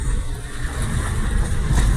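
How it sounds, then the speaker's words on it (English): A motorbike engine drones loud and close while riding along a dusty dirt road, a continuous rough rumble with slight swells in revs. "Yep, this is motorbike."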